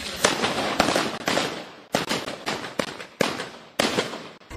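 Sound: firecrackers set off in celebration

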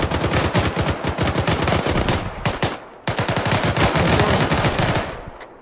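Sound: airsoft gunfire during a game

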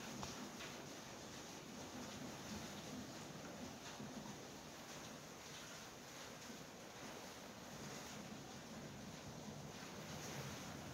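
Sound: wind blowing outside a garage during a storm

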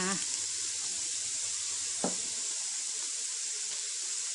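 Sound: stir-frying frogs with basil and fish sauce

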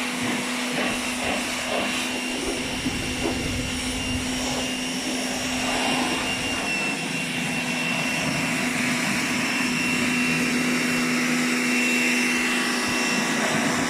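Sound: Dnipro-M pressure washer running

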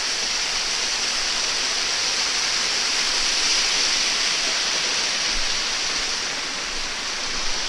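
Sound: waterfall rushing down from the mountains

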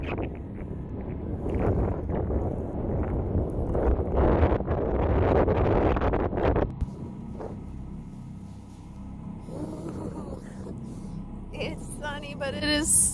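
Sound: strong wind

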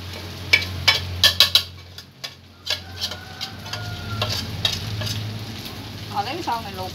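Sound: rice stir-frying and sizzling in a pan

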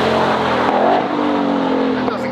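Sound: race car driving past on track

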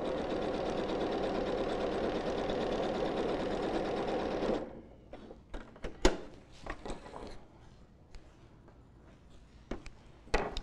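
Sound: sewing machine sewing boning close to edge

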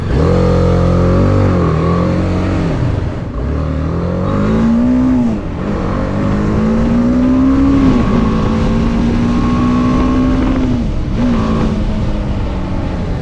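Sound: BMW motorbike engine

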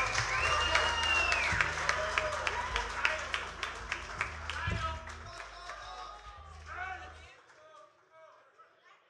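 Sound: concert audience applause

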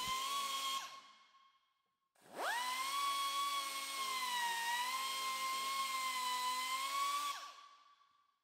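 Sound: grinder smoothing a metal glareshield corner

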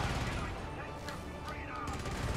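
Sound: turret gunfire in the video game Helldivers

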